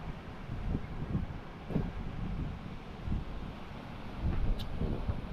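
Steady sea breeze buffeting the microphone at the shore, a continuous low rumble with gusty swells and no other distinct sounds.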